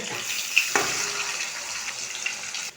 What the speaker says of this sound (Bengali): এক পিঠটা ভাজা হয়ে গেছে আর এক পিঠটা উল্টিয়ে দেবো